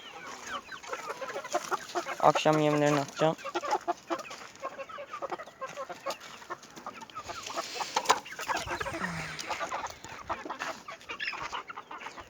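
Chickens cluck and chatter steadily nearby while being fed, a busy flock sound with a brief voice speaking partway through.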